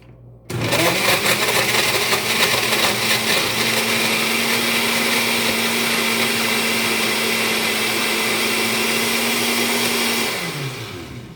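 A blender whirs loud and steady for about ten seconds, blending a mango fruit smoothie with milk, then spins down at the end.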